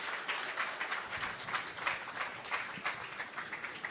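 A crowd at the grand opening of the Sun Coast Beach Club in St Thomas applauds steadily, a dense, continuous patter of many hands clapping at even loudness throughout.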